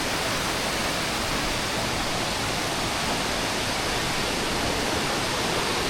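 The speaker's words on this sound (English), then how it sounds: "Nice little cascades." Small woodland waterfall cascades on the Big Burn Walk in Scotland, a steady, close, full-bodied rush of falling water with no breaks and no voices.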